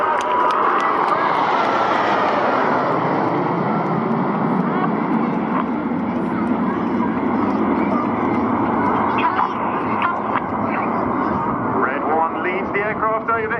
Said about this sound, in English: Aircraft over in big battle formation, the red, white and blue smoke trailing behind as they pull up to the vertical